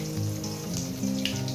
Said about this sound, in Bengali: এই যে আদাটা আমি এখানে একটু ভুজে নিচ্ছি